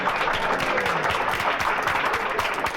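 A comedy club audience claps steadily, a dense, even wash of applause that stays loud and sustained throughout without voices over it.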